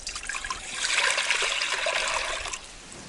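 Water pours steadily into a pot, a broad splashing rush that swells and continues for a few seconds before easing slightly.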